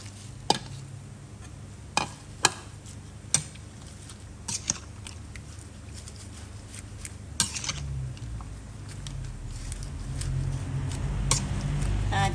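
Ingredients for a Thai steamed tilapia dish with kaffir lime leaves, coriander, spring onion and basil are stirred and tossed in a bowl, with scattered sharp clinks and taps of a utensil against the rim over a soft background rumble.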